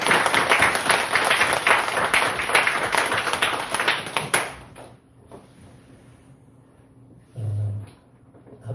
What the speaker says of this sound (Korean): 다시 한번 하나님께 영광 박수로 드리겠습니다